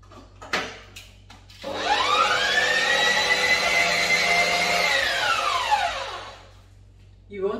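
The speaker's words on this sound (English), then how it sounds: "I will now cream my butter with white sugar." An electric hand mixer whirs as it creams butter with white sugar, its motor whine climbing, holding steady for several seconds, then winding down, preceded by a few short knocks.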